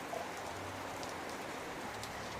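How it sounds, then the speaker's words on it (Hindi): Heavy rain suddenly starts pouring in a Hindi cartoon, a steady broadband hiss of falling water that holds evenly throughout without talk. "तभी अचानक जोर से बारिश होना शुरू हो जाता है।"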